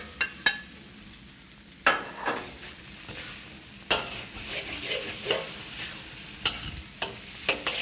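Shrimp and peanuts stir-fry in an oiled pan for pad thai, a close, active sizzle punctuated by repeated sharp clacks and scrapes of a spatula against the pan, with no one talking.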